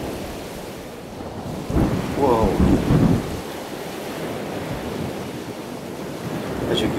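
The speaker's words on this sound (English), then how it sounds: "And it comes up through that little hole there," Sea water surges up through the Kiama Blowhole on the coast, a sudden whooshing roar of splashing spray that rises and falls over a couple of seconds amid constant wind and surf; a person exclaims during it.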